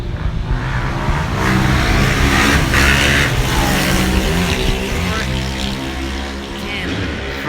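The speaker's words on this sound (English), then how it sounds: "motorbikes. Here they come. Have a listen." Engines roar loudly as motocross bikes of about 90 to 100 cc pass close by, revving and droning for several seconds, with voices talking underneath.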